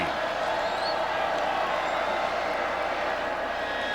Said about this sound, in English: This crowd's still live.